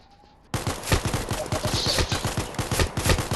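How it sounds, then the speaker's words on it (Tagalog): Gunfire erupts in the online open-world game Vice after a brief quiet moment, a rapid, loud fusillade of repeated shots that continues densely to the end. "Sino bumabaril sa akin"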